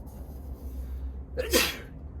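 A single loud sneeze bursts out after a moment of quiet breathing, sharp and close.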